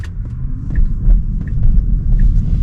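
A car passing at an intersection, heard from inside a Tesla as a steady low road rumble that swells and fades over a few seconds with no talking.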